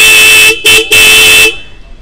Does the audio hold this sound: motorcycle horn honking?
yes